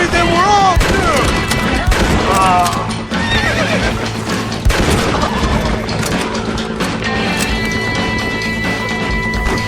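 A horse in the Western video game Red Dead Redemption whinnies loudly several times amid hoofbeats, gunfire and a busy game soundtrack, with voices shouting in between.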